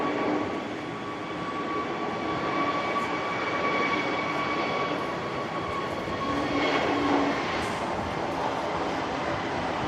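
A British Airways aircraft's engines roar in a steady, loud, continuous drone, with no talking over it.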